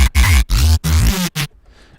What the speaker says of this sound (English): So if I play the sounds, you can hear it creates the sidechaining.